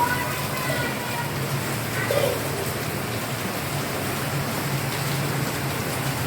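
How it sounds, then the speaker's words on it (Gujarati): Steady rain falls without pause, a constant dense hiss of drops hitting surfaces at an even, moderate loudness. "એક ધારો વરસાદ ચાલુ જ છે"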